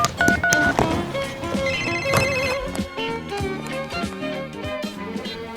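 A mobile phone rings with a bright, repeating ringtone melody that plays steadily for several seconds over cartoon-show background music, with no one speaking.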